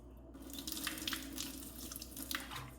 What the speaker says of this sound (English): I fill my sink full, about halfway full of cold water